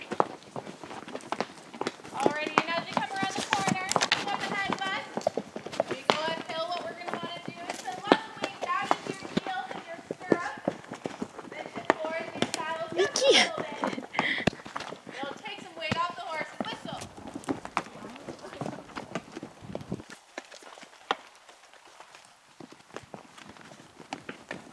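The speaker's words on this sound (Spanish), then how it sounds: "Caballito, caballito." Horse hooves clip-clop at a walking pace through a busy outdoor scene, the steady knocks mixed with a man's and children's voices talking over them for most of the stretch.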